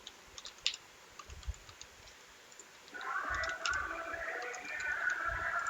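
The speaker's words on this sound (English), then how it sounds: "and type the password" Light, irregular clicks of a password being typed on a computer keyboard at a Windows PC, close and quiet, with a steadier background noise rising under the keystrokes partway through.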